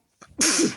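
A single sharp sneeze, a quick intake of breath followed by an abrupt, loud burst of air.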